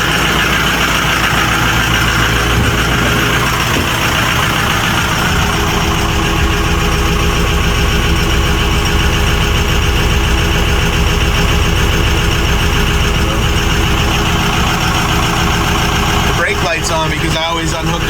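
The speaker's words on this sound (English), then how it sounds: "But it's running. Definitely not running on all the cylinders" A 6.0 Powerstroke diesel engine runs at a rough, uneven idle and is not firing on all cylinders, a steady loud close rumble with irregular pulsing that continues throughout, with a voice talking over it.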